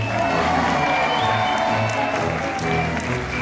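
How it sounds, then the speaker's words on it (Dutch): A theater audience at a Sint show applauds and cheers for Piet, a dense continuous wash of clapping with scattered whoops and shouts, steady and loud throughout. "laat je horen voor die andere lieve schat applaus voor meisjes Piet."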